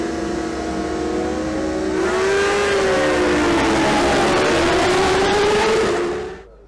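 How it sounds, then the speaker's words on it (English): Racing motorbikes at the Oliver's Mount road races give a sustained, whining engine note that rises and wavers for several seconds, then tails away at the end, with no talking. "I can hear the bikes in the distance as they come around at the end of the first lap."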